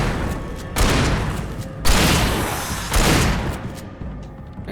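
Gunshots in the video game Alan Wake Remastered, four loud booming blasts spaced about a second apart, each trailing off into a long echoing decay.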